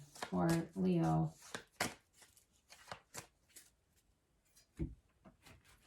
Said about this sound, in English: we're going to do some extra shuffling just to try to mix it up